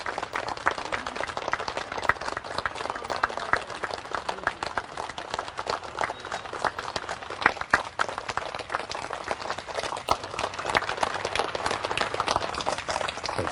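Wedding guests clap for a newly married couple as they arrive, a dense, steady patter of many hands sustained throughout at moderate distance, with no clear talk over it.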